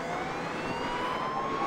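A siren power-up wails in the kart racing game Beach Buggy Racing 2, a steady, loud siren tone that rises slowly over a dense bed of engine and race noise.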